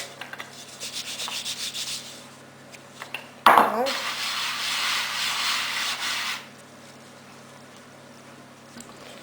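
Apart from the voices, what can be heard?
rolling out dough with rolling pin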